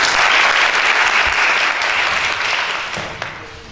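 Sustained applause from a college audience at a girls' college lecture, loud and steady crowd clapping that gradually eases toward the end, with no speech over it.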